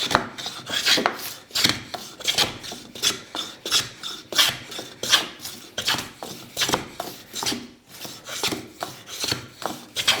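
A homemade block plane built from scrap wood shaves fine curls off pine, giving repeated rasping strokes in a steady back-and-forth rhythm, close and fairly loud with no talk.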